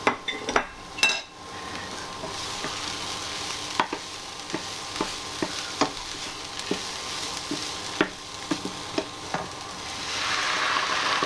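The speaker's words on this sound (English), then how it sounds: "so add the garlic and cook it for about a minute" Onions and garlic frying in a pan for creamy mustard chicken, a steady soft sizzle broken by repeated sharp clinks and scrapes of a utensil stirring against the pan, close and without talk.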